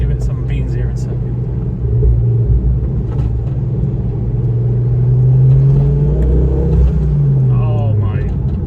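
Ford Focus ST225 pulling hard under acceleration, a deep continuous engine rumble with rising and falling pitch sweeps as the revs climb, close and loud inside the car, with brief voices over it.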